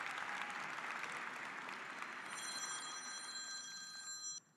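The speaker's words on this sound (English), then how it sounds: "Can we give them a big round of applause as well?" An audience applauds at an engineering graduate recognition ceremony, a soft, even wash of many hands clapping, fairly distant, with a faint steady ringing tone joining midway before the clapping stops abruptly.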